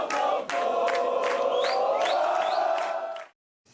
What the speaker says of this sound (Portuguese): Chegou a tempo de ouvir o grito que a torcida guardou no peito até agora.